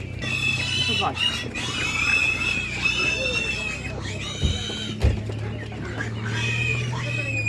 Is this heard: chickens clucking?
yes